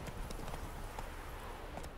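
Horse hooves clop and gallop in a quick irregular rhythm in The Witcher 3, fairly close and steady throughout, with no clear talk over them.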